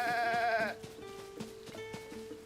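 A goat bleats in Zelda: Tears of the Kingdom, a short wavering cry at the start, followed by quieter plucked game music with soft rhythmic thumps beneath.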